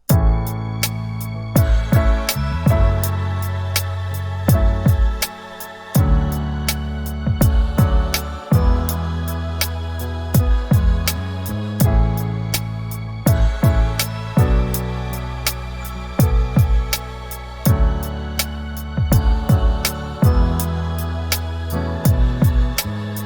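A loud, steady soul loop with warm chords and bass under punchy, regular drum hits that repeat in a steady groove throughout.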